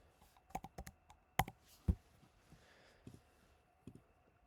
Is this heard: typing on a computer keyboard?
yes